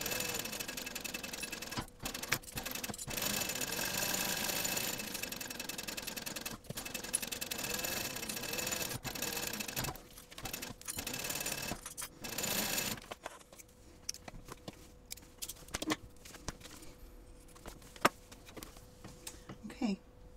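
A sewing machine bastes around piping with a 1/8 inch seam, a dense steady whirring hum in short and longer bursts, then quieter pauses with small handling clicks and occasional soft talk.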